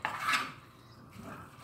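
A utensil scrapes and clinks against a cooking pot while homemade spaghetti is stirred, one short bright clatter up front followed by softer rubbing.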